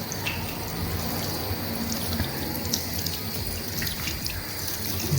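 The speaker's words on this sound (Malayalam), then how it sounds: "നമ്മൾ ആദ്യം കൈ വയ്ക്കുമ്പോൾ സോപ്പ് വരും, പിന്നെ അതിൽ നിന്ന് തന്നെ വെള്ളം വരും." Steady running water from an automatic hand wash tap in a clean public toilet, a continuous close hiss with faint splashing into the basin, heard alone.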